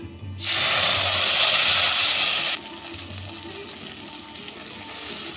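Ground spice paste hits hot oil already tempered with bay leaf, cloves, cardamom, cinnamon and white cumin, bursting into a loud hissing sizzle for about two seconds before settling to a quieter, steady fry.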